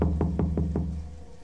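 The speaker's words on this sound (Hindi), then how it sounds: "अलमारी में से मुझे किसी के दस्तक करने की आवाज़ आई" Knocks on a wooden wardrobe door in a hotel room: five quick, soft, evenly spaced raps over a low steady hum, fairly faint and dull.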